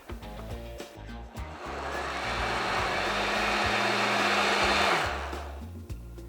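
A countertop blender whirs through zucchini basil soup, its motor revving steadily and loudly for several seconds before spinning down, with clattering and handling noises before and after.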